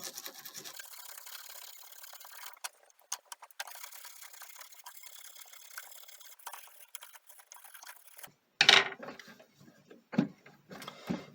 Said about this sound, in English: I'm going to hit those knobs just a little bit more with the toothbrush